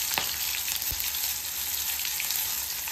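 Panch phoron spices frying in mustard oil in a kadai, a bright, even sizzle with a couple of quick pops and knocks near the start.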